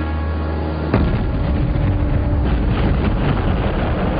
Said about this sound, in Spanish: La explosión resultante levantaba el barco del agua y le partía el casco.